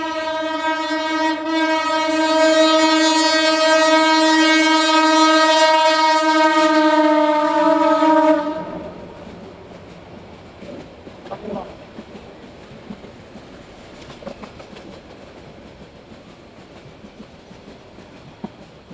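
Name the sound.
train passing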